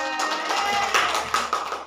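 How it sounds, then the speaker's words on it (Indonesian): Students in a classroom clap together briefly, a short burst of scattered hand claps over faint background voices. "Tepuk tangannya"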